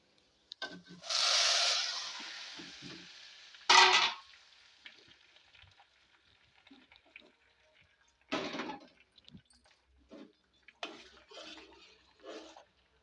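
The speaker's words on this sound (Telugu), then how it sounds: "ఇప్పుడు దీన్ని ఎత్తి దీన్ని తీసి సాంబార్లో చారులో అయితే వేసేసుకుందాం" A fried red tempering is tipped into pappu charu, giving a short burst of sizzling, then a second brief sizzle, followed by spoon scrapes, stirring and small knocks against the pot.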